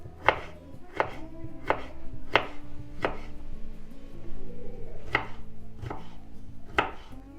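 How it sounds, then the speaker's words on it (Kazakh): A knife slices a cucumber diagonally into thin pieces on a board, about nine crisp, evenly spaced cuts in a steady rhythm, close and clear with no talking. "Енді қиярды ортасынан бөліп, жіңішке формада бұлай қиғашынан турап шығамыз."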